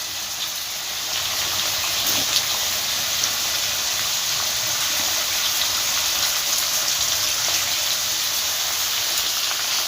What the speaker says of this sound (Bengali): এতে একটু মিশিয়ে নিয়ে এবার জল দিয়ে দেবো